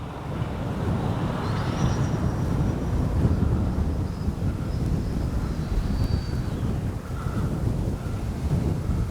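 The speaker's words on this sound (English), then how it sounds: "when I'm telling you it's windy, y'all know it's windy for me" Strong wind roars and buffets across the microphone at an RC jet flying field, a steady loud rush with faint high engine whines drifting through in the distance.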